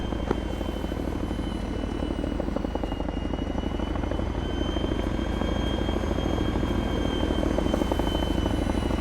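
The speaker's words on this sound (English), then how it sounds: "Let's get in the chopper." Military helicopter in the Arma video game, a steady loud rotor thump and engine whine running continuously without a break.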